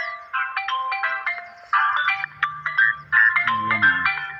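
A mobile phone plays a melodic electronic ringtone outdoors during a fishing trip, a bright repeating tune in short phrases, with low background rumble entering midway.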